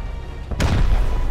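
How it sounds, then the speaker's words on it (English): A sudden loud explosion booms out in the video game Rust, set amid a modded match where players fly planes, and a heavy rumbling tail lingers after the initial blast. "Oh, the sounds of the explosions are just terrifying."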